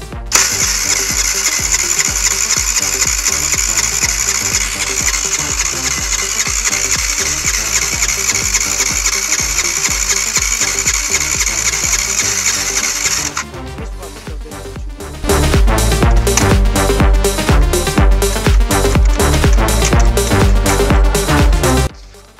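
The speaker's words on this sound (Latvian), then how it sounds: "uzmetīšu vārstuvāku un pamēģināsim iedarbināt" Small petrol engine after an intake valve repair, cranked with a ratcheting whir for about thirteen seconds, then catching and running loudly with a rapid, uneven rhythm close by.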